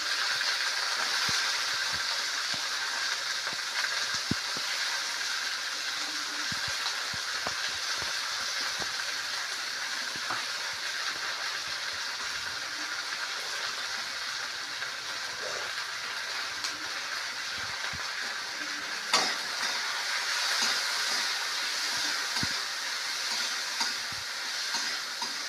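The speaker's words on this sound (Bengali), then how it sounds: "একটু তেল দিয়ে দিব আর এখন সবজিগুলো একে একে ভাজা করে নেব।" Mixed vegetables fry in a little oil in a pan, producing a continuous soft hiss with occasional light taps and clicks of stirring, fairly quiet and unbroken, with no voices.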